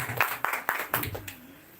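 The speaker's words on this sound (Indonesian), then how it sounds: "Tepuk tangan dulu Bang Adul dari Kometa" A few scattered hand claps at a gathering of an archery community, about five distinct claps spaced unevenly, fairly quiet and close, fading into near silence at the end.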